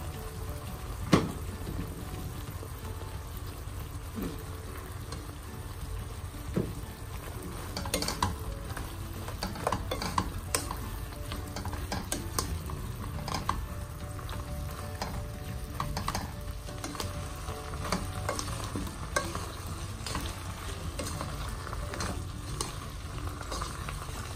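Okra is stir-fried in a pan for adobong okra, with a constant sizzle and repeated scraping and clattering from the utensil against the pan throughout.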